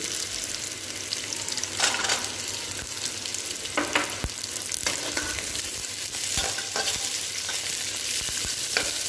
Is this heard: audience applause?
no